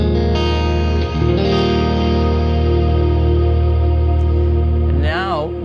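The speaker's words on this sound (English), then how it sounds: "So we're going to turn the reverb back on." LUMOS synth with reverb engaged: sustained ambient pad tones with thick stacked harmonics ring out continuously, a brief dip near one second, then a swooping, wavering sweep rises near the end as the wash fades.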